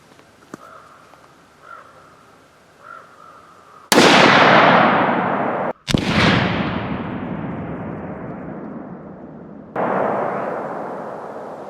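Three loud, sharp reports from a Howa Model 1500 rifle in .308 Win fired outdoors, each followed by a long echoing decay, with faint crow calls in the quiet before the first shot.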